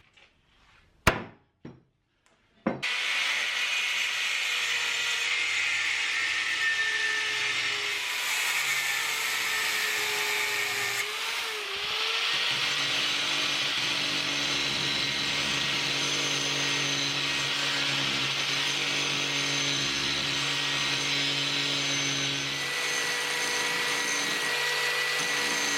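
A power tool grinds down the sharp edges of a homemade metal lawn levelling tool, a continuous loud close whine that shifts pitch midway, after a few sharp knocks at the start.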